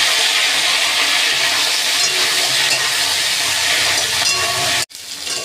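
Cauliflower frying in hot oil in a pan, a loud, continuous broadband sizzle and hiss that holds steady before cutting out abruptly near the end.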